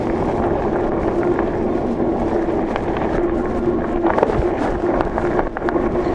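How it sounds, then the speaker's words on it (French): Wind roars over the microphone while riding a OneSpot ONES3 electric fat bike in cold weather, a loud continuous rushing buffet with a low hum underneath throughout. "J'ai du vent en plus."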